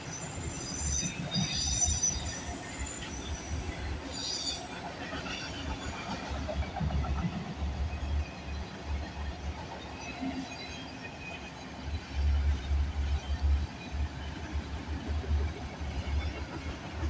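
CPKC freight train X275 rolls past at Bronte in the early morning, a steady rumble of wagons with clattering wheels and high metallic squeals, loud and close throughout.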